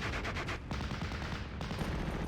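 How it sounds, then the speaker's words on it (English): 120mm mortar fire in the Steel Division: Normandy 44 war game, a rolling barrage of sharp blasts and rumbling impacts, loud and dense with a brief lull midway. "it seems as though they're now being hit by the 120mm mortar"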